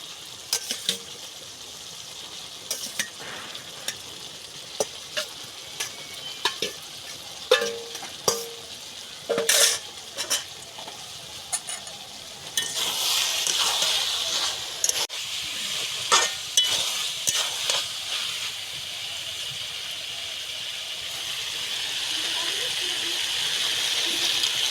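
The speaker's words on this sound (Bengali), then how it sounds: "এইবার দিয়ে দেব সয়াবিনগুলো।" Soybean chunks stirred and fried in a pan for a kosha-style curry: scattered spoon clicks and scrapes come first, then a louder, continuous close sizzle with more stirring knocks, and no talking.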